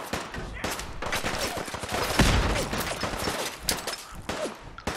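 Monkey bomb explosions in a modded Fallout 4 game, a dense run of loud overlapping blasts and crackling gunfire-like bursts throughout, with one heavy boom midway, close and sustained.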